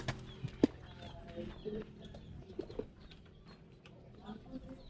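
Pigeons in a fancier's loft give soft, low coos in short bursts, faint and somewhat distant, with scattered small rustles and other quiet background noise around them.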